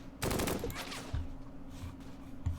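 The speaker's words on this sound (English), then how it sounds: "Keep up the shooting if you can, man." Gunfire in the WWII tactical game Close Combat Gateway to Caen, a quick rattling machine-gun burst followed by a few scattered distant shots, faint and over a low background hum.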